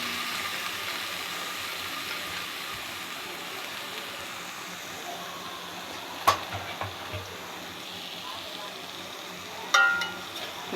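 Turmeric stirred into a frying pan while cooking, a soft steady sizzle with faint scraping, then two sharp clanks of the spatula against the pan near the end.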